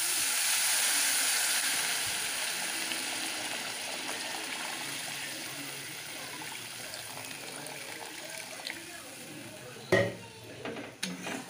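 Water poured into a hot pan of fried spice paste sets off a loud steamy hiss that slowly fades, followed near the end by a few clanks of a utensil against the pan.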